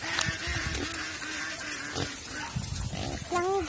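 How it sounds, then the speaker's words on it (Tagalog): A pig on a farm grunts in short, repeated snorts close by, with other farm noises and a brief voice near the end. "Yes, yung baboy. Yan yung baboy."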